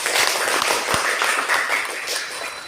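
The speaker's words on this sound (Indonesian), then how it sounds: "tepuk tangan untuk kelompok 3" A classroom group claps for group 3, a dense, steady patter of many hands close by that gradually tapers toward the end, with no speech over it.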